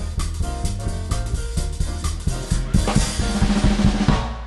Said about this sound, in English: When he does that big drum intro thing that sounds like this.